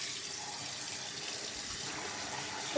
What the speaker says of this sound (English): I'm gonna fill this up with water.